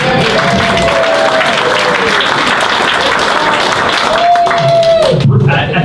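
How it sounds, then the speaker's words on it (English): Audience at a Science on Tap talk gives continuous, loud applause, dense clapping with a few whoops and faint voices mixed in. "How about a round of applause for Renee?"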